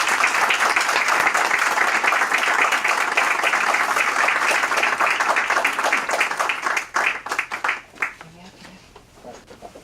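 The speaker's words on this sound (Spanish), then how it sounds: "les ruego a todos ustedes que recibamos a nuestros panelistas con un fuerte aplauso" An audience at a forum on organized crime and dictatorship in Venezuela gives the panelists a loud, dense round of applause that holds steady for several seconds, then thins into scattered claps before fading.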